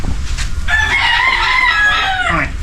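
A rooster crows loudly and close by on a Filipino farm among many chickens, one long drawn-out cock-a-doodle-doo rising and then trailing off, with a little background noise before it.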